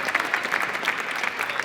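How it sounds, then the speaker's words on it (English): Audience applause at a STEAM Co. talks event with Barclays: a steady, close, full round of clapping with no break. "Big round of applause for Stephen"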